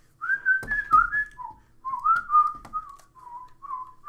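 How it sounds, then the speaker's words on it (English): A person whistles a meandering, tuneless melody of sliding notes nearby, with a few sharp clicks and knocks from handling or gameplay breaking in between phrases. "Why do you keep whistling?"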